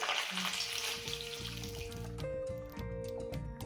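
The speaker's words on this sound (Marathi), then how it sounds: "आता आपण वडापावसाठी मिरच्या तळून घेणार आहोत" Slit green chillies fry in hot oil for vada pav, a close, crackling sizzle that fills the pan, with background music playing over it.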